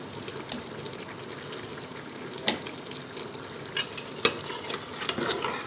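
Beef for nihari frying in a pan with ginger and garlic paste, a soft steady sizzle broken by a few sharp clicks of stirring, quiet and close with no talking.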